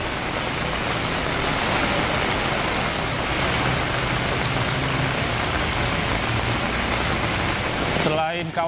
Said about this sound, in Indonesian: saat ini hujan belum berhenti